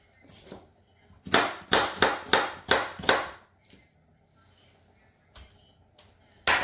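An onion being chopped on a board in a home kitchen, six quick sharp knife strikes in a steady run with a few scattered taps before and after, close and fairly quiet.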